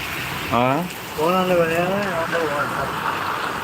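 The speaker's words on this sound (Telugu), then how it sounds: "ఫుల్ వర్షం పడుతుంది" Heavy rain pours down in Mulkanoor, a steady broadband hiss running throughout while voices talk loudly over it.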